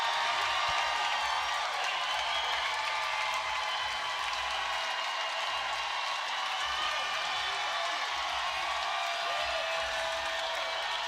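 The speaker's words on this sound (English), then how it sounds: "There's the crowd." A steady roar of crowd noise with scattered clapping and cheering rises as the candidate walks out at a 2026 DC primary election night rally, continuous and fairly distant without clear breaks.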